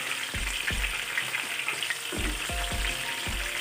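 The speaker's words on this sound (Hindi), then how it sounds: "इन्हें अच्छे से फ्राई कर लेते हैं।" Chicken pieces for chilli chicken frying in oil: a close, steady sizzle and crackle, broken by several dull thumps and clunks as pieces are dropped in or moved around.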